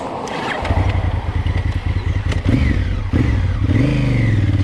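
A Honda CRF1000L Africa Twin motorcycle ridden on grass while testing traction control, its engine close and loud with a rapid throbbing rumble, rising and falling revs and a strong burst of acceleration partway through.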